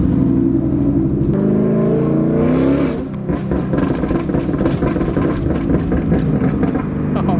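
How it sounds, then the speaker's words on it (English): A supercharged 2018 Mustang GT engine hums and rises in pitch with a whirring supercharger whine and rushing intake air, the note shifting as revs build, loud and close. "you hear pretty much air coming through like the intake until you get up in the RPMs"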